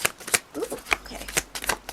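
Tarot cards shuffled by hand in quick, crisp riffling bursts and soft slaps, close and fairly quiet, for about two seconds with no talking.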